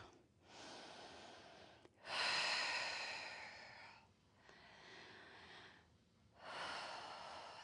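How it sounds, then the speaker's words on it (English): Slow, deep breaths during a hip stretch in a beginner mat Pilates session, with long audible inhales and exhales repeating in a steady rhythm, close and fairly soft, and no talking. "A few breaths."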